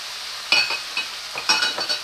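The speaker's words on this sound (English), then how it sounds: "my mushrooms, my red peppers, and my yellow onions have been sauteing for a while" Red peppers, yellow onions and mushrooms sauteing in olive oil in a pan, a close crackling sizzle broken by several quick scraping stirs.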